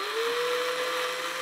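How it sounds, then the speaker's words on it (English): A small handheld drill whirs at a steady high pitch while working on porcelain Christmas ornaments, close and continuous with no talking. "hold the drill. Generally, I like to keep it stationary like this"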